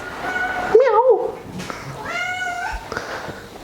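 A cat at an animal sanctuary in Tenerife lets out a couple of drawn-out, wavering meows close by, with a soft voice and some background noise around them.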